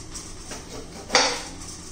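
A knife slices through capsicum on a chopping board at home in a kitchen, giving one sharp, close knock against the board amid quiet background.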